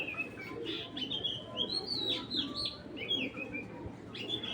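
Racing pigeons coo and chirp up close, including a chocolate-colored male, in a busy loft. Soft repeated calls overlap with a low rustling murmur and no talk.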